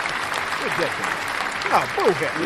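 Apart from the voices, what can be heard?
applause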